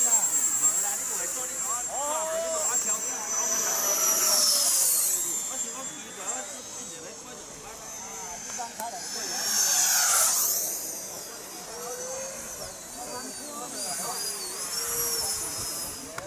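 A radio-controlled F-35 model jet with a 70mm ducted fan takes off at a flying field, its high whining fan rising and falling in pitch as it passes, steady and fairly loud, with people talking nearby.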